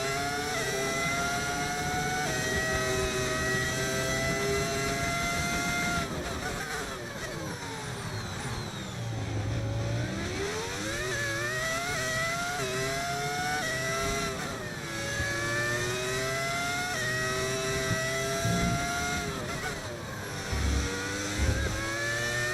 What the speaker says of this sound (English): It's the V10 engine.